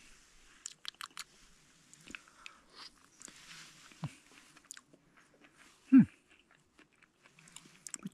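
Someone eating reindeer stew with a small spoon outdoors on a trek, with faint close chewing and biting, soft mouth clicks and crunches, and one louder thump partway through, with no talk.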